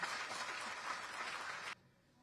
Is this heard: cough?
no